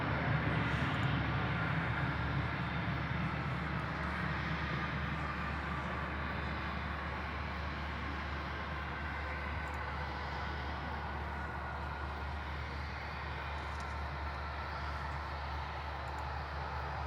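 Turkish Airlines Airbus airliner flying past, a steady broad jet rumble at moderate distance that stays even throughout and fades a little, with no talk.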